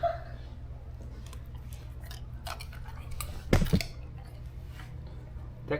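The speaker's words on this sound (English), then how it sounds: "That crunch is crazy" Crunchy Belizean garnaches, fried tortillas with toppings, bitten and chewed close up, a short burst of crisp crunching about midway through over a steady low hum.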